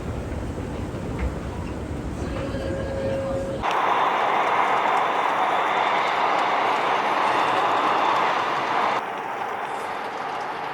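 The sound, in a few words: subway train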